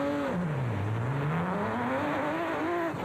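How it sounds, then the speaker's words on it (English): A Chevy NASCAR V6-powered Aceco race car pulls off the start line in the Baberspan 500 off-road race, its engine rising in pitch as it accelerates hard, then settling into a steady, loud drone, heard alone. "The Nobles were next off the line in the Chevy NASCAR V6-powered Aceco."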